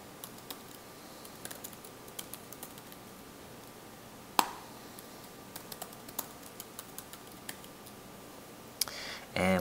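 Close typing on a computer keyboard, with scattered light key clicks and a sharper tap partway through, ending in a brief faster burst, faint and alone.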